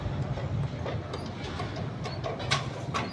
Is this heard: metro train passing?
yes